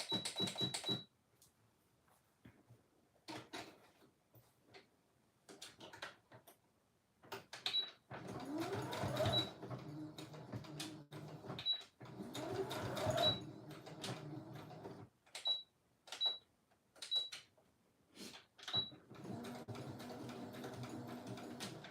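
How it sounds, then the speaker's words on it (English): An embroidery sewing machine stitches a zipper bag in the hoop in repeated bursts of rapid mechanical whirring and clicking, separated by pauses and short high beeps. "now I'm going to go back with a straight stitch to just make it look nice and even"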